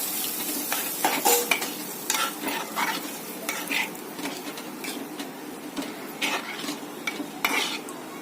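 Okra gravy masala cooks in a pan as a little water is poured in, producing sizzling and bubbling with frequent scraping and stirring clatter from a utensil against the pan.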